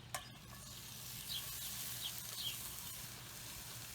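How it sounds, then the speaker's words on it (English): Vegetables cut into little matchsticks sizzle steadily in a frying pan, a soft continuous hiss with faint crackles and pops, no talking. "Beautiful sizzle."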